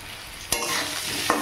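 Chopped onion dropped into hot oil for a tempering in a fish curry kitchen: a steady close sizzle with a sharp clatter midway and another brief crackle near the end, no voices.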